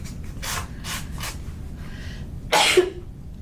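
Several short rasping strokes of sandpaper rubbing on a wooden star cutout, unevenly spaced, followed by one louder, harsher scrape close by.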